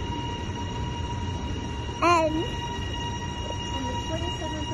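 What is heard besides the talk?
Metro Trains Melbourne train at Dandenong Station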